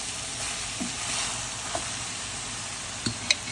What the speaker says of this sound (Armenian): Տեսեք, լավ տապակվել է, համարյա ջուր չկա։